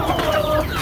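A brief, close cluck from a rooster being conditioned and bathed, rising over steady background noise.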